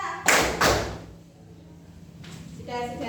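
Two sharp, loud claps from a classroom of students clapping a counted rhythm together, followed by a quieter stretch with faint room noise.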